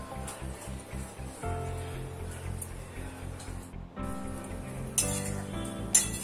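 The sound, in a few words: stirring curry in pan after adding coriander leaves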